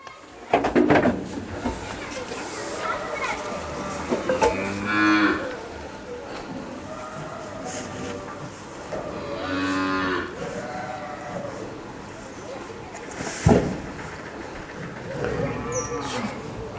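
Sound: Jersey heifers mooing while being loaded

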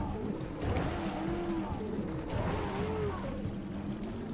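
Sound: Zoomer vehicle engine noise in Jak & Daxter video game

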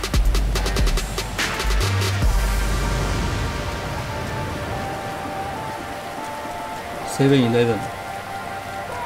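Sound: rain falling in video game GTA5

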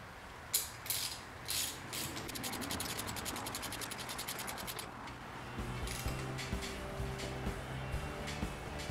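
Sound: ratchet with 19 mm socket on Pontiac Fiero engine

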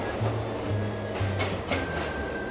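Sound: BRIO toy train running on wooden railway track

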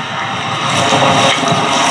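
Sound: anti-tank missile launch in battle footage

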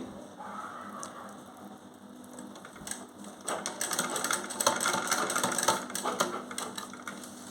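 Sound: sewing machine stitching a gents' trouser back pocket

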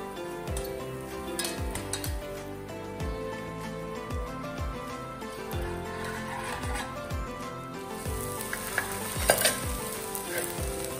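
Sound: tomatoes sautéing with crushed ginger and garlic in pan

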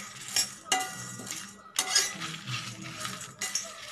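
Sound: roasting fenugreek seeds in a pan

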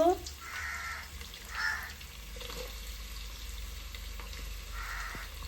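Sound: onion frying in hot oil

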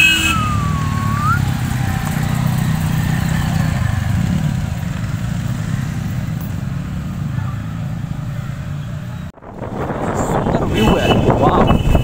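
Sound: motorcycles of bikers riding off

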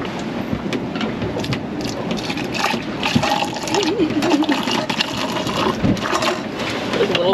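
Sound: pouring boiling water into cups on a boat

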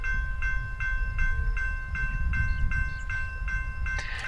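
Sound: Amtrak train hauled by Siemens Charger diesel locomotives

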